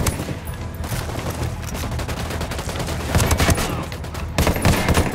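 Sustained automatic gunfire from a Ghost Recon Wildlands firefight, dense rapid bursts continuing throughout at moderate loudness.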